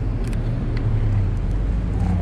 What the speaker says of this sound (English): Let's see where the car is at.